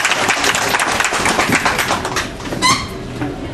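Applause from an audience at a ceremony welcoming the United States ambassador to Guinea, a dense continuous patter of many hands filling the space, with brief bird-like chirps standing out near the end.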